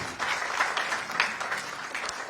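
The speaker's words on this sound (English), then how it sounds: "Another round of applause, please." Brief burst of steady crowd applause at a national school quiz championship launch event, thanking corporate sponsors, dense and even throughout with no talk over it.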